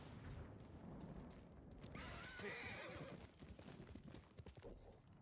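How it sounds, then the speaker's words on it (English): A horse in Ghost of Tsushima whinnies loudly and close, with clip-clopping hooves on the ground around it, no voices present. "Horse."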